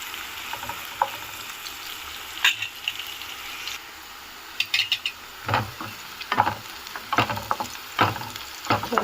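Onions with curry leaves fry and sizzle in a pan for a brinjal tomato curry, with a steady hiss under intermittent scraping and clinking stirs from a utensil, close and moderately loud.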